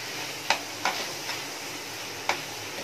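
Gram flour is dry-roasted and stirred in a pan for a chicken masala: a faint steady sizzle with four sharp spoon taps against the pan at irregular intervals.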